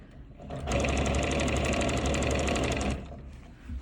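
Domestic sewing machine stitching in the ditch on a quilt without pins, a fast even rhythmic chatter starting abruptly, running steadily for about two seconds, then stopping, with no talk over it.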